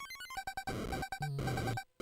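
Repeating electronic chiptune warning beeps from the NES game Whomp 'Em signal low health, sounding loud and insistent in quick pulses over game music, then dropping briefly to silence near the end.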